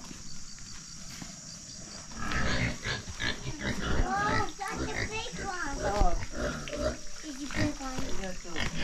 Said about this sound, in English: So here's the little baby piglets.